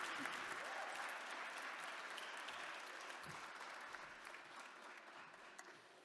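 An audience at a social innovator showcase claps for presenters, a faint but continuous patter of applause that slowly tapers toward the end.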